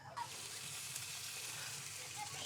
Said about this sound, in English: just hear that sizzle